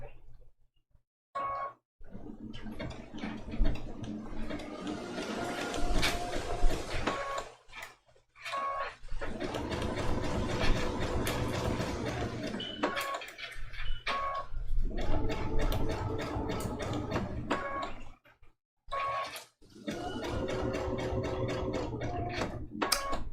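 A sewing machine stitches a raw-edge appliqué Christmas ornament quilted trivet, running in long steady bursts with brief stops between them, close and fairly loud, with no talk.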